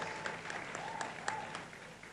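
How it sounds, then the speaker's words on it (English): An audience at the Youth Connekt Africa Summit 2023 applauds the second runner-up. The clapping is steady and fairly soft and sounds like it comes from a hall, with a few sharper claps standing out. "A round of applause."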